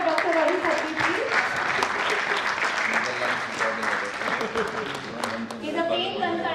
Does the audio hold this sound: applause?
yes